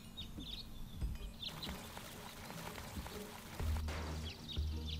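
Water pours into a tank in the video game Deponia, a faint steady trickle and splash under light chirping game ambience with a few soft thumps.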